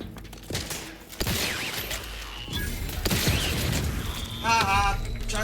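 A grenade goes off during a firefight in the video game The Outer Worlds 2, a rolling boom mixed with gunfire, mechanical clatter and in-game voices and effects.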